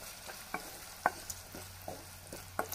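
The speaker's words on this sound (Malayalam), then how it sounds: "അപ്പോൾ നമ്മൾ മസാലയൊക്കെ നല്ലപോലെ ഒന്ന് തിളച്ച് വരുന്നുണ്ട്." Chicken pickle masala bubbles in a pan and a spoon scrapes through it now and then, a few faint clinks and stirs over a quiet sizzle.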